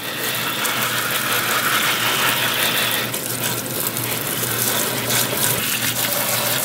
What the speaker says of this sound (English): I just give the plant a hard spray.